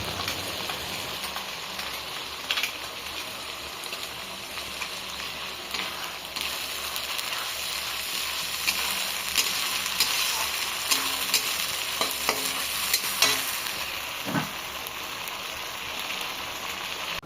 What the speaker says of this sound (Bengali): পেঁয়াজ কুচির পরে আদা রসুন বাটা দেওয়ার পরে এখন দেওয়া হচ্ছে শুকনো লঙ্কা বাটা